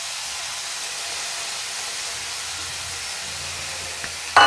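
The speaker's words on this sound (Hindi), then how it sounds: "अब इसमें हम पिसा हुआ जो पालक था" Ground spinach frying with masala in a hot pan, a steady close hiss of sizzling that holds evenly, ending in a brief louder clatter.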